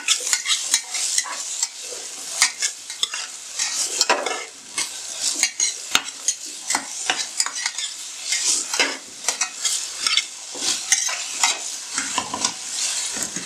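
Whole spices, shahi jeera, cinnamon, cloves and cardamom, fry in hot oil as a spatula stirs them, giving a continuous sizzle with frequent scraping and clinking against the pan, close and fairly loud.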